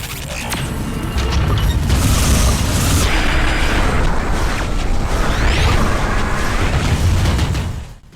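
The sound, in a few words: explosions in VR video game Space Pirate Trainer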